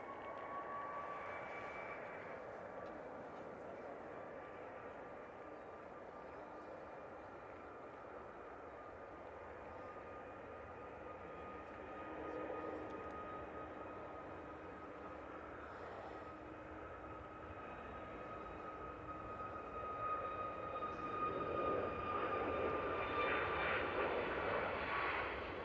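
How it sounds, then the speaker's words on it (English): A Ryanair Boeing 737 Max rolls for takeoff to Berlin at an airport, a sustained jet roar with whining engine tones that builds and grows louder near the end, heard from a distance without talk. "Ryanair Max on the roll."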